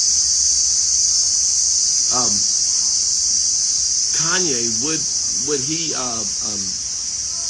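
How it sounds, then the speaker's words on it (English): Crickets chirp in a constant high-pitched drone throughout, while someone talks in short phrases over it. "crickets are loud"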